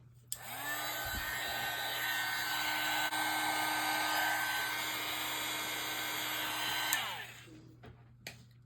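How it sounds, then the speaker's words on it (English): An embossing heat tool blowing for card-making: a steady, loud whirring hum with a high whine that switches on abruptly, runs continuously for about seven seconds, then cuts off. "now let's get the heat tool."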